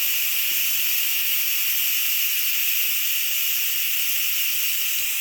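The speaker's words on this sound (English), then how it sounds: "So the steam does need to be released." An Instant Pot pressure cooker vents steam with a loud, continuous hiss that holds steady and close for several seconds, with no voices over it.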